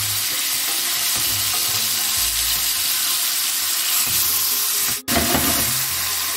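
Salt cod fries in a pan with a loud, continuous sizzle as it is rolled and turned over, a brief dip near the end when it is flipped, close up with no talk.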